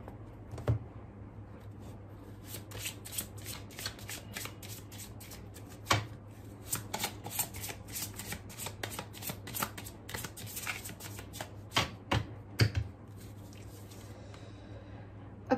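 Oracle cards being shuffled by hand, a soft steady run of papery riffles and slaps with a few sharper taps, close and quiet, no talking.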